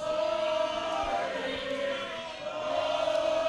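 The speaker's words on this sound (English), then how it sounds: "Boring chants by the crowd." A wrestling crowd at a UCW Zero show drones a steady, sustained chant that fills the whole stretch, dense and continuous with a held tonal note running through it and no clear single voices on top.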